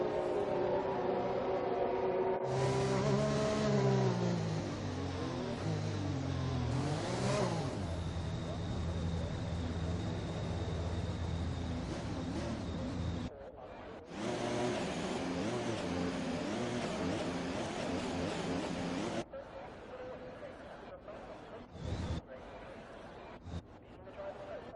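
F1 2021 race cars idling and blipping their engines on the Singapore GP starting grid, a dense continuous engine drone with rising and falling revs, broken by brief gaps, with a commentator's voice over it.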